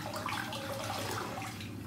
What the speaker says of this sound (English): The sink has got very full of water, so I'm just rincing my hands out